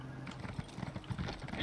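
Quick, light hoofbeats of a horse in the video game ESO (Elder Scrolls Online) clop in a steady trotting rhythm, fairly faint, with a faint mechanical hum beneath.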